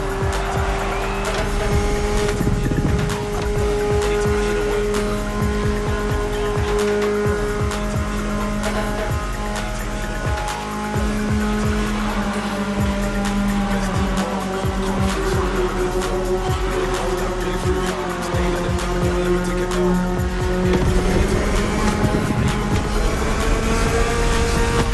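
BMW E30 racing through the roads of Maui in The Crew Motorfest, a loud steady engine drone with shifting revs and repeated tire squeals running throughout.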